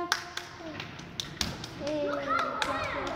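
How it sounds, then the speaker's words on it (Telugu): A small child clapping hands, a few sharp claps spaced out early on, followed by an adult voice talking encouragingly over the last part. "she's clapping hands"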